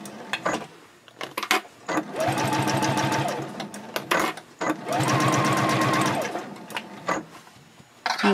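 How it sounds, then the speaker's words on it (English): A sewing machine bastes binding to the bottom of a fabric pouch with a long stitch, running in two sustained bursts with short pauses and light handling clicks between them. "I'm basting the binding to the bottom of the pouch with the binding on the bed of the machine"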